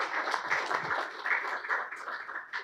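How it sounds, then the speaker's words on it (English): A room of people claps together at a talk, loud and fairly close, the individual claps blending into uneven bursts of applause that carry on for a few seconds without speech. "Let's give one more round of applause to everybody who did that."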